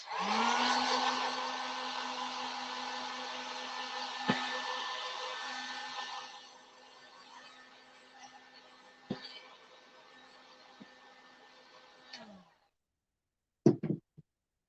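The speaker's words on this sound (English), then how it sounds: "I'm going to take my heat gun and dry this just a little bit." A heat gun blows steadily for about twelve seconds while drying beaded garland pieces, loud at first and then softer, with a few light knocks and clicks before it cuts off.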